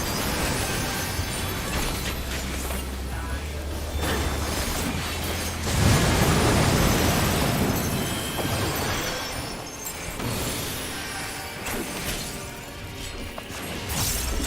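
A lightning strike attack bursts in a Final Fantasy XIV raid, a loud crackling crash over dense game music and effects, swelling sharply midway and trailing into continued battle noise.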